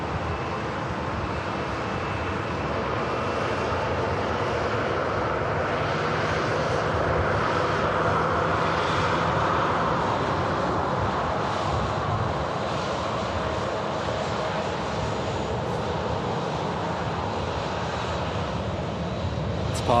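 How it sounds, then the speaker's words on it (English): A Ryanair Boeing 737 arriving at Manchester Airport from Belfast International produces a steady, loud jet engine roar with broadband rumble that holds throughout, without any talking. "Ryanair 737 coming in from Belfast International"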